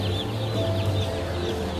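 Chickens at a poultry show in Thailand cluck and squawk close by, several overlapping calls over a busy hall background.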